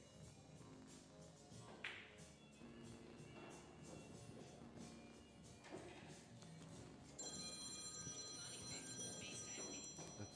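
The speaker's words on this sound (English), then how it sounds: "we got a phone ring here" A telephone rings faintly in the background of a 10-ball pool tournament hall, its bell heard under steady room noise and the clack of play.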